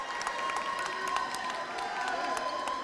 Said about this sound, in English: Crowd getting into it here in Kingston. This is the loudest I've heard this gym in a while.